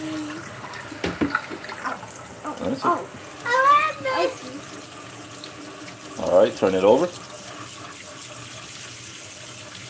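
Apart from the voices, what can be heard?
water rinsing a pitcher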